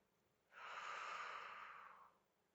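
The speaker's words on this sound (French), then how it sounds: "je voulais bien vous montrer la respiration que je prenais" One long, slow breath during mantra meditation, a soft airy rush that swells in, holds steady, then fades out, close and quiet against near silence.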